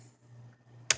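Typing on a computer keyboard while entering a search, heard as two sharp, close keystroke clicks near the end after a quiet stretch with a low steady electrical hum, no voices.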